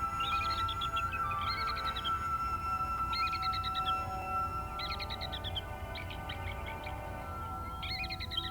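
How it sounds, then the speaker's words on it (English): A gathering of bald eagles calls repeatedly in short bursts of high, chittering cries, heard at moderate distance over a steady background rush. "These large gatherings of eagles can become lively, with birds shoving for positions and sparring over prey."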